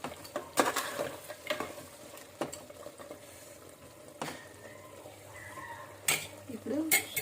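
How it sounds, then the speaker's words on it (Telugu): A spoon scrapes and clinks against a pan while Telangana-style mutton curry with fresh coriander is stirred, repeated close knocks and scrapes over a soft sizzle. "కొత్తిమీర వేసుకొని కలుపుకుందాం"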